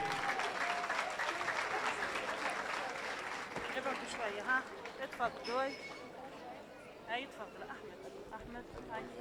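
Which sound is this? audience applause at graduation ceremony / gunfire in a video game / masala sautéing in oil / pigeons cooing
audience applause at graduation ceremony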